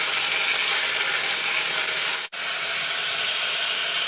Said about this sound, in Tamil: இது கொஞ்சம் எண்ணெயில் போடுற பாருங்க